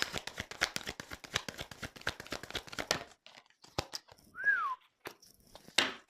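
Papery crinkling and rapid clicks of cards being handled, then a single short whistled note that rises and falls before more scattered rustling.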